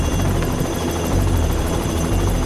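A helicopter hovers low over a worksite while a concrete bucket is unloaded, with a loud, close, continuous rotor roar and thudding blade beat throughout.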